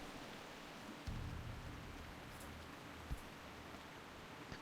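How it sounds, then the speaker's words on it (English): Rain falls in the Vale in the video game Classic World of Warcraft, a soft, steady hiss of rainfall with a faint low rumble and one brief thump, all quiet and without talk. "Of course it's raining in the Vale."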